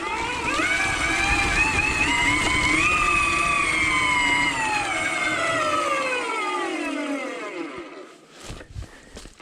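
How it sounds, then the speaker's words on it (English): An Electric Motion Escape R electric motorbike rolling downhill on regenerative braking alone gives a loud, steady motor whine that slowly falls in pitch, then fades out near the end. "if you listen to the motor, you can hear it somewhat resisting, but because of the weight and the force of the bike, it's still gonna roll"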